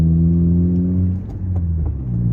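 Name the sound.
car engine accelerating during a driving lesson gear change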